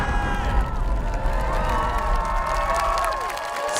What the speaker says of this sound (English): The people are cheering.